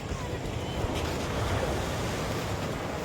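Large, rough sea waves at Mantigbi in bad weather make a constant roar of surf with gusting wind buffeting the microphone.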